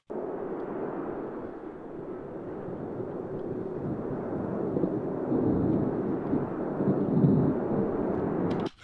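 Thunder and wind sound effects layered in a video edit make a continuous low rumble with broad whooshing noise. The roar swells gradually and stops abruptly at the end.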